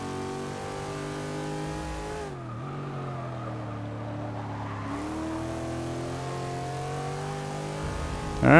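A Subaru 22B race car in the Forza 6 video game, its engine droning and revving steadily at high pitch, dipping briefly as it shifts or lifts, then climbing again, loud and continuous.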